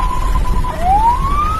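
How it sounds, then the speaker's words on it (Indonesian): An ambulance siren signalling that it is picking up a patient sounds loud and close: a steady electronic tone drops abruptly, then sweeps smoothly upward in a rising wail. "Kalau ini berarti ambulan sedang menjemput pasien."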